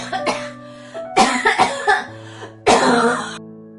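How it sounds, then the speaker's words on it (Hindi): A man coughs in several harsh, rough bursts with brief pauses between them, close and loud, with a drawn-out final cough, a low steady hum running underneath the whole time. "दिन भर खांसते रहते हो।"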